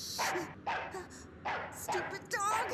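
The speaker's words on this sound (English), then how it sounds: "Beware of dog. Stupid" A dog barks in a Cowboy Bebop anime episode: several short, sharp barks spaced roughly half a second apart, at moderate loudness against a backdrop of soundtrack noise.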